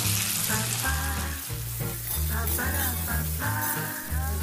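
Garlic and onion sizzle in hot oil in a pan, a steady close frying crackle that holds throughout the few seconds, with tonal background sounds running beneath.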